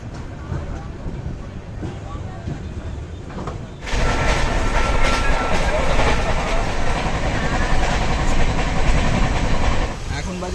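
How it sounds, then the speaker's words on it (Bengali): Howrah-Amritsar Mail standing at platform one of a railway junction, a loud, continuous rumble of idling train engine and carriage noise that swells sharply partway through and holds steady to the end. "আমাদের ট্রেন এসে দাঁড়িয়েছে রাইবেল জংশনের এক নম্বর প্ল্যাটফর্মে"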